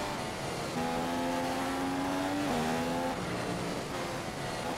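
Formula One race cars roar in F1 2015 on the Spa circuit, engines whining at high pitch and rising through gears with a brief shift drop midway, loud and continuous over a dense mechanical wash.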